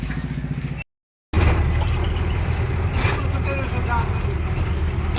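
Motorcycle engine running close by with a steady droning rumble, broken by a short dropout near the start. Traffic-like noise fills the rest of the clip.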